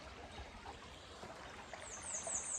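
Water of a small stream flows steadily beside a bridge outdoors, a continuous soft trickling wash heard alone, fairly quiet and even throughout.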